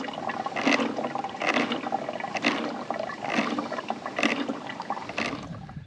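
Water is filtered from an outback water source in Western Australia, making repeated watery pumping surges at a steady rhythm, roughly one stroke per second, close by with no talking.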